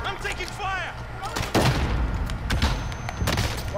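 Gunfire in Call of Duty Cold War Warzone, several sharp close shots and bursts in quick succession over a droning background, with voices talking in the mix.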